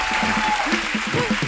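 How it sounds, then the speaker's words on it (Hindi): A studio audience on a comedy show bursts into steady, loud applause, dense clapping filling the space while a voice speaks over it. "एक बार जोरदार ताली हो जाए"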